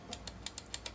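Six quick, light clicks of Gateron Blue mechanical keyboard switches in a short burst, close and fairly quiet, with a slightly loose, rattly edge.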